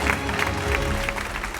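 Audience applause greets an honoured guest in a cathedral setting at a gathering in Vaison, a steady burst of clapping with crowd noise lasting throughout.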